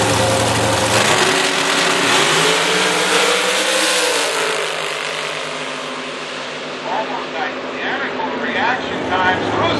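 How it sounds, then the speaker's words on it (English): Two big block Chevy dragster engines over 600 cubic inches race side by side at a drag strip, making a loud, continuous roar that sweeps in pitch before easing off slightly, then surges again. "Both big block Chevy engines over 600 cubic inches side by side."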